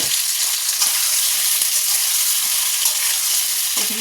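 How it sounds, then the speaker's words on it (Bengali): Boiled taro fries in a wok over a high flame, a loud, dense, unbroken hiss of oil with a few faint scraping ticks. "প্রথমে ফ্লেমটাকে একটু হাই করেই ভাজতে হবে"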